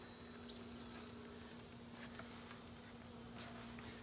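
Honeybees from a swarm buzz steadily on hive frames, a dense, continuous hum with a sustained low drone and occasional nearer wingbeats passing close.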